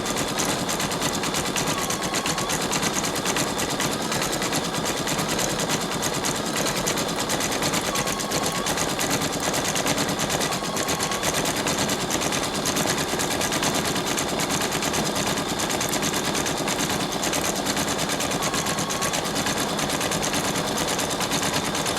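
A Brother Innov-is 2800D sewing machine stitches continuously, a steady, fast, even mechanical whir and needle rattle running without pause for over twenty seconds.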